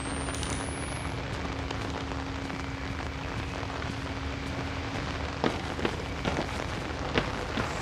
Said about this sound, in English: Why does it have to be raining and thunderstorming and shit?